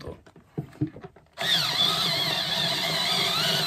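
A few light taps and knocks, then a power drill with a 20 mm wood bit starts boring into thick bamboo, droning steadily at high speed, close and loud, with a whining tone.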